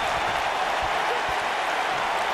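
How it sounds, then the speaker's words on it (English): A dense, steady arena crowd roar with applause in a WWE 2K19 wrestling match between Mike Kanellis and Big E for the United States Championship, loud and unbroken. "by the sound of this crowd"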